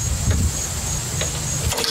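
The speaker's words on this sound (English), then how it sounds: "You hear the motor kind of fire and kick, and then it rips right out of your hand." A lawnmower engine briefly fires and kicks back as its pull cord is yanked, a short rough burst of motor noise over a steady low rumble, with a sharp rattling jolt near the end; no speech.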